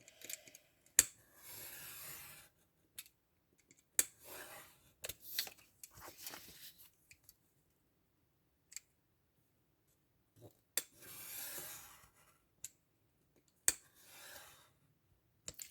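Scissors or a blade cut material on a work surface during a portfolio craft build, giving short snips and clicks in scattered bursts with quiet pauses between, close and fairly soft.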